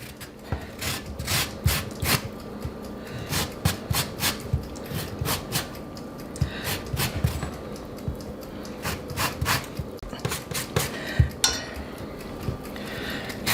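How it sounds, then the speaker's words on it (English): Lemon peel scraped against a grater for zest, a close rasping rub repeated in quick uneven strokes with small metallic clicks, steady throughout with no talking. "Now it's the zest of 2 lemons"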